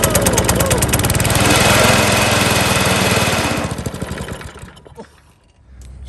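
An old Briggs & Stratton small engine, already trailing smoke from its muffler, runs with a steady rapid chugging that loudens, then fades and sputters near the end.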